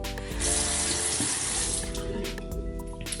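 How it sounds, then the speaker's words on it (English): Cold tap water runs steadily into a bathroom sink while someone rinses their face, a close, continuous splashing rush with a faint hum underneath and small bursts of splatter. "now I'm gonna rinse it with cold water"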